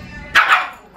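A dog barks loudly and close by, two quick sharp barks in about a second, the second one cut off.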